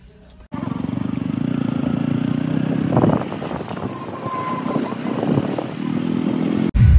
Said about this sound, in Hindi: आर वन फाइव भाई काफ़ी भारी बाइक है